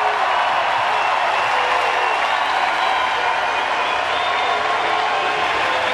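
A large outdoor festival crowd at Das Fest Karlsruhe keeps up loud, sustained applause and cheering for a brass band, a constant wash of clapping from many people.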